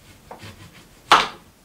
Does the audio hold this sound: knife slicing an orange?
yes